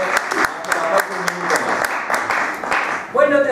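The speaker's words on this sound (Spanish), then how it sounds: "Y un aplauso muy grande." Audience applause at a talk at the Ateneo de Madrid, a burst of dense hand clapping that continues for a few seconds, with a voice breaking in near the end.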